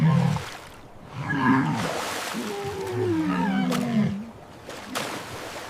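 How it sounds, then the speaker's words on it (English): A walrus gives deep, groaning calls with some sliding whistle-like tones, fairly loud and close against a rough, noisy background, with no talk. "It's a walrus."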